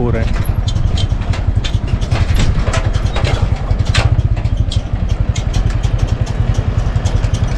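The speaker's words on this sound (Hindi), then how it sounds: "धीरे धीरे ट्रक्स उतर रहे हैं" Four-by-four military trucks creep down a steep mountain road on the Lipulekh route, their engines a loud, close, steady rhythmic chug that carries on without a break.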